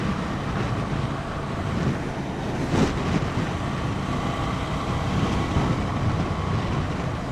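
A Ducati Scrambler Cafe Racer motorcycle engine idles nearby with a steady low, throaty burble and broad rumble, holding an even level throughout with no talking.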